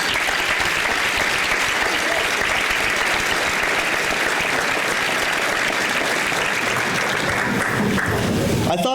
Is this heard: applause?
yes